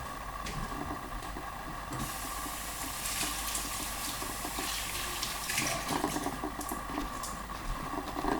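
Water runs from a kitchen tap while pepper seeds are rinsed out, a steady close splashing stream that swells louder partway through, with no talking.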